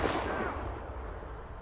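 A grenade blast in a video game: one loud, close burst that rolls into a long, fading rumble over about a second and a half, heard alone without any voices.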